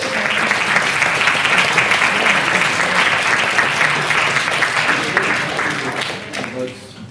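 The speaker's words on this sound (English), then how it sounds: "So please give them another round of applause, and thank you" A debate audience gives presenters a steady round of applause at a science event, loud and continuous with crowd murmur mixed in, fading toward the end.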